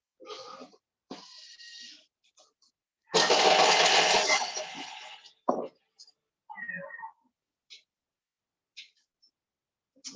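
A TM6 kitchen machine whirs briefly for about two seconds as it chops whole chilies, with a loud grinding burst standing out between stretches of quiet speech.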